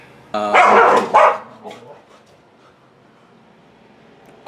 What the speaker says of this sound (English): Angry puppies.